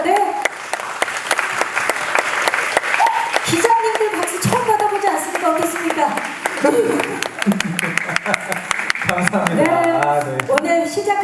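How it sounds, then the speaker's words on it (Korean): Reporters applaud at Young Tak's 'SuperSuper' media showcase, a dense, steady wash of clapping filling the room for the whole stretch, with voices talking over it. "기자님들 지금 바쁘신 거 알지만 박수 한번 보내주시기 바랍니다."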